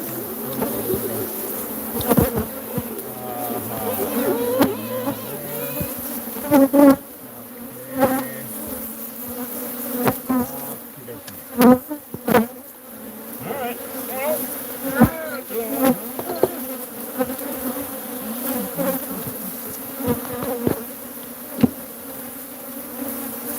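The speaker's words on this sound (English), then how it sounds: "the bees that are coming out here are going back to their front door" A steady, dense drone of bees buzzing around their hive entrance, swelling and thinning as individual insects pass close, with soft thumps and occasional faint talk in the background.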